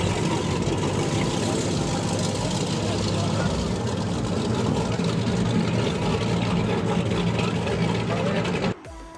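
Mercury Racing 500R outboard engines on powerboats during a November poker run off Key West, a dense, steady roar of several engines holding level for the whole stretch before cutting off abruptly near the end.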